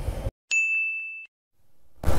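An old church bell at the church in Ligao, Albay, Philippines gives one clear, bright ring that holds steady for under a second and then stops, with bursts of nearby noise just before and after.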